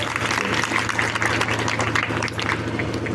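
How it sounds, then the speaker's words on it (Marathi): An audience claps through a Marathi religious discourse by a Shivacharya Maharaj at Vassa, a steady dense patter of applause holding at an even level for a few seconds, with a low hum beneath. "टाळ्या वाजवा."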